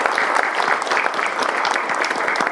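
Applause for the prime minister at a university alumni journalists' anniversary and awards ceremony: a short burst of full, close crowd clapping, dense and steady throughout.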